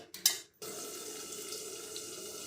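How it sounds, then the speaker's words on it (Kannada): Hot water, about half a cup, poured into a pan of chicken liver masala fry, a steady continuous splashing pour running close and alone after a brief clatter. "ಒಂದು ಅರ್ಧ ಕಪ್ನಷ್ಟು ಬಿಸಿನೀರು ಹಾಕೋತಿದ್ದೀನಿ"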